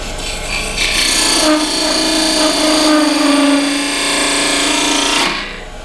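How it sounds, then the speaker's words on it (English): A thin parting tool cutting into wood on a spinning lathe while making a cryptex puzzle box, a loud, close, continuous scraping whine with a rising tonal squeal that stops sharply. "now I'm going to take that little thin parting tool I made, turn the lathe speed back up"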